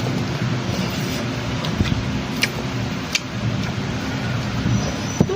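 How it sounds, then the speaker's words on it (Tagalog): Heavy rain pours steadily in a broad, continuous hiss, with faint occasional taps and clicks over the top and no talking. "Grabe ulan, guys."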